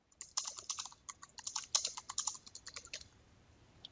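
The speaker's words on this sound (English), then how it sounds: "If I just start typing" Rapid, uneven clicking of fingers typing on a computer keyboard, close and crisp, as text is entered into a LaTeX document, with no voices and a quiet room behind it.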